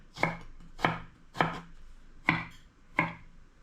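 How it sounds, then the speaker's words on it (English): A knife slices a piece of peeled ginger into thin slices on a board: five crisp, evenly spaced cuts, close and clear, with no one talking. "I just slice into like this, cut thin slices like that."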